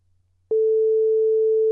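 A telephone line tone starts abruptly on a radio call to a guest and holds as a steady, clear, continuous pure tone.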